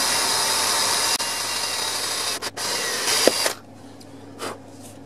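Power drill boring into plastic sheet for a custom guitar build, a loud steady high whine for over three seconds with a couple of brief dips, then it stops and a quieter short burst follows.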